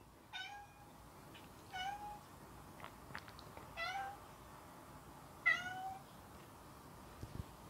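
A cat meows repeatedly indoors, about five short, clear calls spaced a second or two apart over a quiet background.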